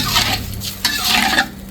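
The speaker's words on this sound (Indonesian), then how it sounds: "kita aduk-aduk sampai bumbu-bumbu penyedapnya larut" Seasonings being stirred into a tofu and tempeh stir-fry in a pan, a few close, scraping strokes of a utensil with faint sizzling between them.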